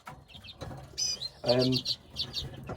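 Lesser redpolls in a breeding cage give short high chirps and twittering calls close by, in scattered bursts with some fluttering and background noise.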